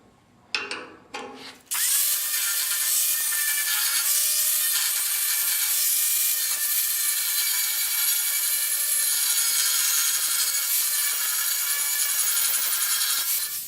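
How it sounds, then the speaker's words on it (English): A drill bores out a big metal rivet on the cowl of a 1930 Ford Model A, a loud, sustained high-pitched whine with a grinding edge that runs steadily for about twelve seconds after a few brief clicks. "there's a big metal rivet that goes into the side of the cowl"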